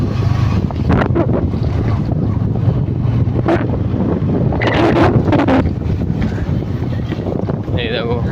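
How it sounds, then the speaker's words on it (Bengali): Strong wind in open country near Bantala roars and buffets the microphone of someone sitting on a bike without a break, a dense low rumble with occasional gusty rustles. "এখানে বিশাল হাওয়া চলছে চারিদিকে"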